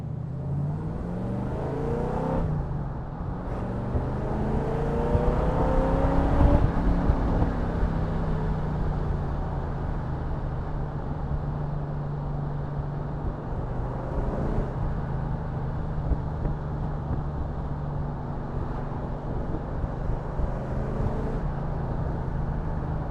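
An AK Cobra roadster driven on the road gives off a continuous close engine drone, its pitch rising and falling with throttle and gear changes, with no voices over it.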